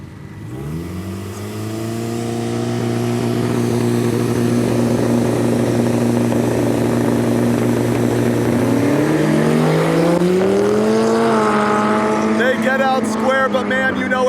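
Drag racing cars, including a pink Ford Mustang, launch at a duct tape drag event: engines drone loudly in a sustained roar, then rev higher and rise in pitch as they accelerate, with crowd noise and voices faintly underneath.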